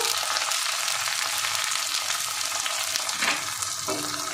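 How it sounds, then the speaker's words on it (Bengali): Chopped tomato hits hot oil in a pan already frying onion, garlic, ginger and green chili, giving a loud continuous sizzle with a few stirring scrapes near the end. "এবার আমি টমেটো কুচিটা দিয়ে দেবো"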